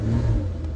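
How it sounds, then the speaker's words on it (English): Car engine revving close by, a short low-pitched growl that swells then settles within under a second, with no talking over it. "Let me rev the engine. So I rev the engine."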